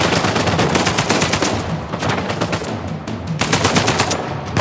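Rapid automatic gunfire from a firefight in Uncharted 4: A Thief's End on PS5, loud, dense bursts that run without a break, with a short lull near the three-second mark before the shooting picks up again.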